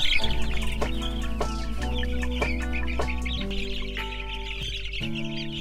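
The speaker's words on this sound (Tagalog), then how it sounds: "yun lang para dito sa ating batch 24, 60 heads na Rhode Island Red" Rhode Island Red chickens, a batch of about 60, cluck steadily while being given booster feed. The clucking is close and continuous over a steady tonal background.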